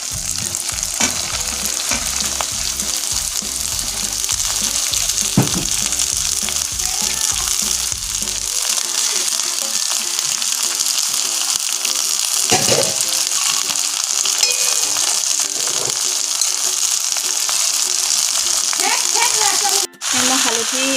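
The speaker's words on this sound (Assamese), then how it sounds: "এতিয়া মই পুৰা শাকৰ কাটি লোৱা পুৰা শাকখিনি দি ল'ম।" Chopped leafy greens frying in a pan with mustard and garlic, a loud steady sizzle with stirring scrapes throughout and brief speech.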